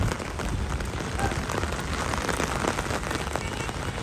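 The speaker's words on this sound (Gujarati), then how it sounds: "આ વ્યૂ છે કાલનો વરસાદ ચાલુ છે" Steady rain pours onto a top-floor terrace, a dense, even patter close by that fills the whole stretch with no voices.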